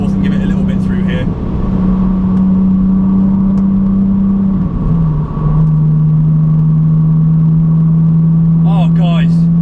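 BMW Z4 engine on a race track, a loud steady drone that drops pitch with a gearshift midway, then holds again under mild acceleration; brief voice snippets appear near the start and end.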